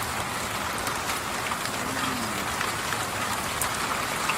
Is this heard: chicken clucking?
no